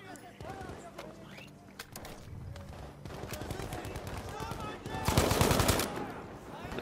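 Gunfire in Battlefield 5 multiplayer, bursts of automatic shots and single pistol cracks over background battle noise, growing louder toward the end, with a voice talking over it.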